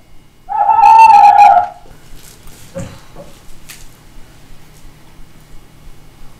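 A tawny owl gives one clear, tonal hooting call near the start, fairly close and loud, then fades into quiet outdoor background with faint rustles.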